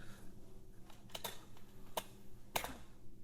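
Keys on a computer keyboard pressed a few times during a Linux install in VirtualBox, with sharp isolated clicks near the one-, two- and two-and-a-half-second marks over a low steady hum, with no talk.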